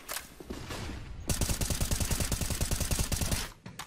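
Rapid automatic gunfire from a first-person shooter video game, a sustained burst of closely spaced shots after a few scattered earlier ones, loud and near with no talk over it.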